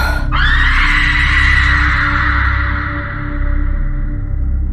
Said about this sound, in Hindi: जैसे ही वो 14 तक पहुंचती, वो जोर से चिल्लाती।